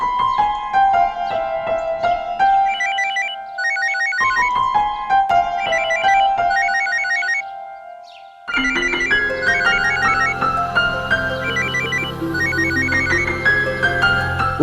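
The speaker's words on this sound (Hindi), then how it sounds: "नील को फोन लगाते हैं," A telephone ringtone sounds while a call is placed, a loud, repeating melodic ring pattern with a brief pause near the middle before it resumes fuller and louder.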